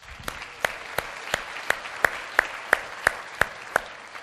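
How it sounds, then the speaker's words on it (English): Steady, rhythmic clapping at an even pace, each clap crisp and distinct over a soft background wash, as an audience at a seminar gives a round of applause. "I just want to give you one round of applause"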